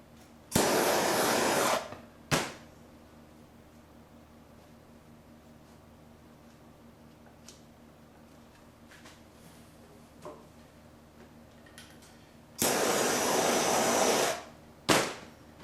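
Heat gun warming vinyl wrap on a motorcycle gas cap: two loud bursts of steady blowing hiss, one early and one late, each followed by a short click, with a quiet room between them.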